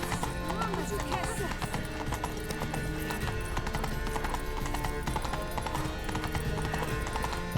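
Horse hooves clip-clopping at a steady walk in The Witcher 3: Blood and Wine, set under a dense, constant bed of game music and ambience, with a brief whinny and game voices speaking now and then.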